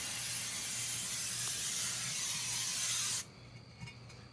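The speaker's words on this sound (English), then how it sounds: "How I spray the rotor off is just real simple." Cleaner sprays onto the brake rotor of a 2004 Dodge Ram 1500 during a front wheel bearing job in one continuous close hiss for about three seconds, then cuts off abruptly, leaving quiet with a faint clunk.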